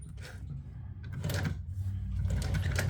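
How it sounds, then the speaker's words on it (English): An upholstery sewing machine runs steadily while stitching a welt cord, with a low motor hum that grows a little louder and a faint rattle of the mechanism, close and on its own. "I will start the sewing, I guess about right here"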